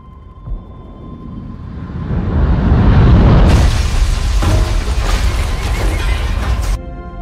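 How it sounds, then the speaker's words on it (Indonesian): A massive booming explosion swells into a long roaring rumble with crashing debris, loud and sustained before cutting off abruptly. "mereka pun mendengar ledakan yang cukup besar"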